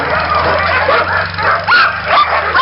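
Sled dogs at a kennel bark, yip and whimper together in a busy, overlapping chorus, with a steady low engine-like hum underneath and occasional voices mixed in.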